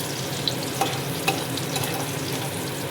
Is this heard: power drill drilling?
no